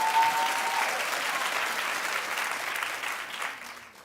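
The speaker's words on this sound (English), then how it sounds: "Now that's a clap." Studio audience on a daytime talk show clapping loudly, a thick sustained burst that slowly thins and fades toward the end.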